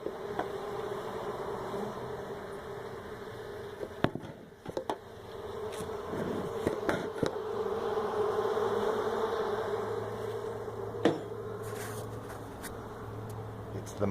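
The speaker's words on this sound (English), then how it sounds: "Bees are still coming and going." Honeybees from a large hive built into the floor of an apartment building hum in a steady, close drone that holds through the whole stretch, with a few sharp knocks and clicks partway through and no talking.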